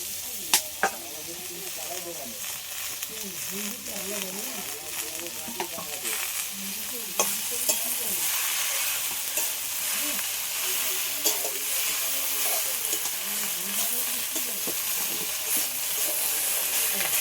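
Steady loud sizzling of potatoes and kulpi greens hitting a frying fish curry, a dense continuous hiss with occasional stirring scrapes and clinks, close up, with no talk.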